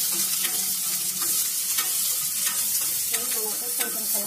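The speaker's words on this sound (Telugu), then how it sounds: "అవి వేగిన తర్వాత ఉల్లిపాయ ముక్క వేసుకోవాలండి" Onion pieces frying in hot oil with seeds already toasted, a continuous bright sizzle with occasional scraping stirs of a spoon in the pan, close and steady, no voices.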